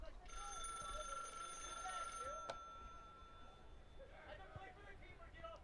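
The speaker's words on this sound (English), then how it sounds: "Oh, the phone's ringing here." A telephone rings in a repeated bell-like pattern for about two seconds during commentary on an RPI versus Bard College men's soccer match, then fades into a quieter background of crowd and voices.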